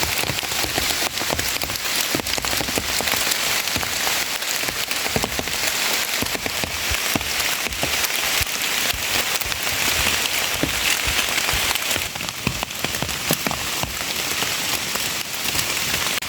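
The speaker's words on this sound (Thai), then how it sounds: "แดดอยู่ดีๆฝนฝนตกเนาะ" Steady rain patters hard on a surface during a sunny shower while out gathering mushrooms on a motorbike ride, a dense continuous hiss with scattered drop ticks throughout, no voices.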